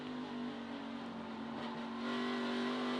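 NASCAR Xfinity Series race car exiting a road-course turn, engine droning steadily, then the throttle picks up and the sound swells louder near the end.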